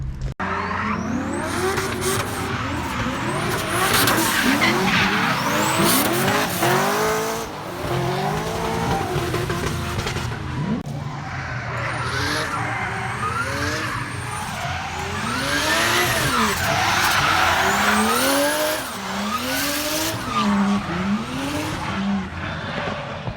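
Go-karts drift around the Teesside Karting track, their engines revving hard and tyres squealing in long overlapping skids, loud and continuous throughout, with no speech.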